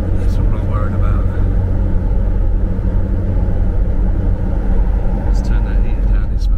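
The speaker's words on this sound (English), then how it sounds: "Let's turn that heater down. This must be making a big roar in the camera." A car heater runs at high fan inside a car on a snowy morning drive, a loud, steady broadband roar close to the microphone with the low hum of the moving vehicle beneath it.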